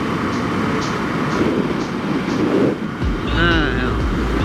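An Indian FTR 1200 motorcycle engine pulling hard under heavy wind rush, then revving sharply upward toward the end, loud and close, with a voice talking over it.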